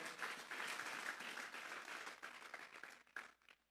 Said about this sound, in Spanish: Vamos a darle una ofrenda de palmas a Dios en esta hora.